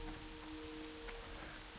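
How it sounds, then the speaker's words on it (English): Steady ambient rainfall from the World of Warcraft game world, a soft continuous patter and hiss spread evenly at low volume, with a faint steady tone beneath and no voices. "I like the ambient sound of the rain."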